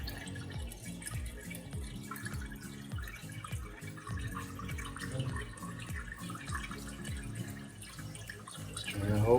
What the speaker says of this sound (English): Okay, so we're definitely draining out now.